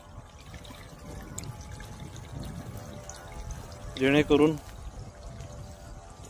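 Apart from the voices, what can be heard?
water pouring from fertigation injector pump delivery pipe into tank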